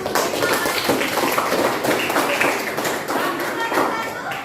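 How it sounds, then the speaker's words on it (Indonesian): A classroom group claps for a presenting group, with a burst of scattered, uneven clapping and tapping at moderate loudness, while people talk over it. "beri tepukan untuk kelompok 1"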